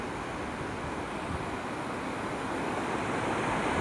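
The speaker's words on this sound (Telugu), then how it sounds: "అన్ని రాళ్ళకి వెళ్ళి వస్తున్నాయి నీళ్ళు." Water in Lingampet stream rushes over rocks with a steady, loud, broad roar that continues without a break and no voices.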